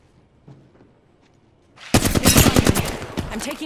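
Automatic gunfire in Apex Legends: a few faint sounds at first, then a loud, sustained burst of rapid shots filling the rest of the moment, close and harsh with no talk.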